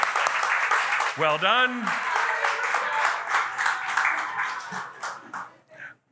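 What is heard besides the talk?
audience clapping for storyteller Angela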